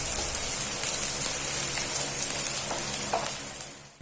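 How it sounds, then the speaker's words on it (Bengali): Chopped onions and a dried red chili sizzle steadily in hot oil in a pan, a loud, dense, continuous frying hiss that tapers slightly at the end, with no talking. "ও একটা শুকনো লঙ্কার ফোড়ন দিয়ে দিচ্ছি 2টো পেঁয়াজ"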